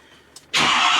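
A 2019 Ford F250 pickup truck engine starts abruptly after a brief click, catching into a loud, steady close-up running roar.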